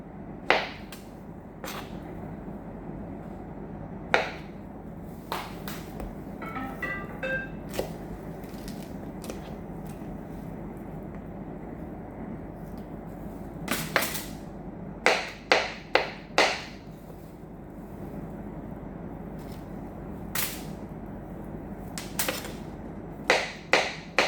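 A knife cutting avocado for salad on a board, giving scattered sharp taps and chops, some in quick clusters, close and fairly quiet against a soft background with no talk.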